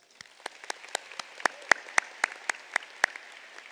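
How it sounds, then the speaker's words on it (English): High school students at a ceremony give their parents a round of applause: sparse, individual claps ringing out in a loose, steady rhythm, fairly close and distinct rather than a dense crowd roar. "Students, if you would, applause for your parents."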